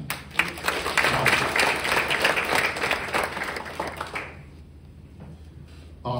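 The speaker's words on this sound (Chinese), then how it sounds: "我们是不是说应该要给这个产品一个肯定的掌声啊" Audience applause at a product training seminar, a dense, loud burst of clapping from a crowd lasting about four seconds before fading to a quiet room, with a brief sound at the very end.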